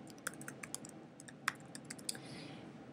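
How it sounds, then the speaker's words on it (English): Quick, light keystrokes on a computer keyboard typing into Spotlight search, a short burst of close clicks over a quiet room hum. "go to our Spotlight and go ahead and type in QuickTime."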